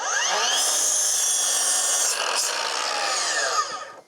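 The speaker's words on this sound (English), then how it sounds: "being a 12-inch compound miter saw and double bevel, it'll cut through a 4x4" A 12-inch double-bevel compound miter saw cutting through wood, with a high whining motor that rises in pitch, a steady rasping bite through the board, then a sharp spin-down as the cut finishes.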